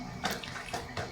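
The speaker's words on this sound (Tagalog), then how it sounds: "Yung una, nilagay natin yung tubig, ang timba, 6 na litro." Water poured into a bucket, six litres for a homemade fabric conditioner, giving a soft, steady splashing wash with a few stronger gurgling surges, close by and alone.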